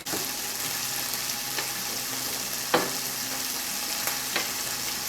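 Food fries in a skillet with a little olive oil for a keto frittata, giving a steady, close hiss of sizzling with a few soft clicks and taps from a utensil. No one talks.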